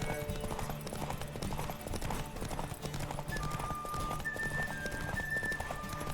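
Horses' hooves clip-clop at a fast gallop in The Witcher 3 video game during a riders' race, a steady rapid beat with occasional whinnies and faint voices over background music.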